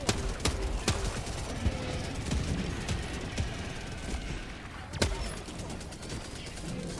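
Enemy artillery and gunfire boom through a war video game battle, sharp blasts repeating irregularly, a loud one near the start and another strong hit around five seconds, over a dense rumbling backdrop.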